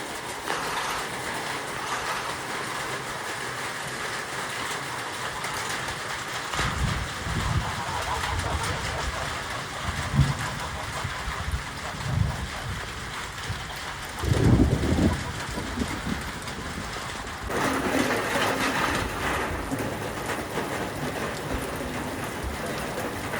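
Heavy rain drumming steadily on a tin roof, a dense metallic patter with occasional louder thumps and shifts in intensity.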